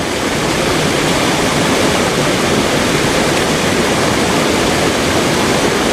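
A seasonal creek on rural California land flows in a constant, dense rush of water, loud and close, steady broadband noise with no voices or other sounds.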